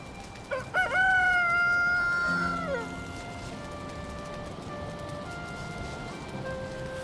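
A rooster in the video game Valheim crows loudly and clearly near the start, then faint clucking and a soft continuous game background follow without speech.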